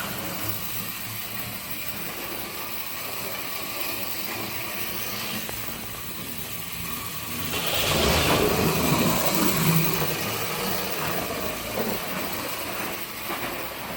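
A small CD motor spinning up to high speed in a scale model build, giving a steady whirring hiss that swells louder midway with a slight rattle, with no voices.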